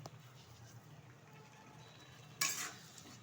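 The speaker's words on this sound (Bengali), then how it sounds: "ভালোভাবে কষিয়ে নিচ্ছি মশলাটা" Salted spice paste for burnt-chilli chicken is sautéed in a pan with a soft, faint sizzle, then one sharp, loud spoon scrape near the end.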